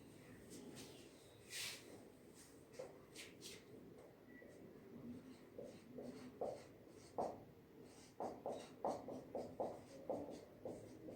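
Pen writing on paper during a grammar lesson, a run of soft, quick scratching strokes that grow busier toward the end, close but faint, with low background rustle and no clear talking.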